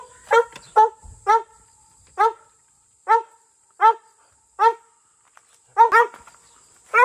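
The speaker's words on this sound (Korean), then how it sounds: "써니가 가니까 레오가 짖네." Dog barking outdoors on a cool morning, a series of sharp, separate barks at irregular intervals, with a quick double bark near the end, fairly close and alone against a faint steady background hum.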